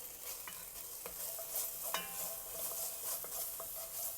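Minced garlic sizzles in a pan with vegetables cooked down for a Cajun cabbage roll filling, a steady frying hiss with scattered scraping clicks from stirring, moderately close and without speech.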